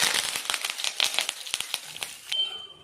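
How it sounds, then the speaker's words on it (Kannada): Curry leaves and dried red chillies crackle in hot tempering oil, a dense run of sharp pops and spits close by, thinning out near the end. "ನೆಕ್ಸ್ಟು ಕರಿಬೇವು ಮತ್ತು ಒಣಮೆಣಸಿನ್ಕಾಯಿ ಹಾಕ್ತಾಯಿದ್ದೀನಿ."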